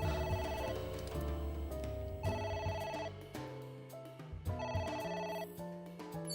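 A phone in the video game AI: The Somnium Files keeps ringing, its melodic electronic ringtone repeating in steady cycles for several seconds without any talking.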